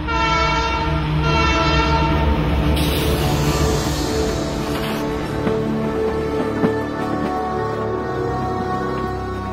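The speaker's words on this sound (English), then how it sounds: "the Canadian Pacific Railroad reached British Columbia and the Kicking Horse Valley." A Canadian Pacific Railroad train rumbles past loudly with a sustained horn blast, steady wheel clatter and a continuous rolling roar, heard alone without voices.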